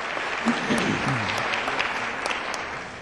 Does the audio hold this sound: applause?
yes